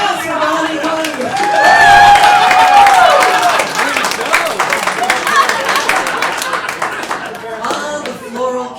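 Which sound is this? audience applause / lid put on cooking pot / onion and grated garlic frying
audience applause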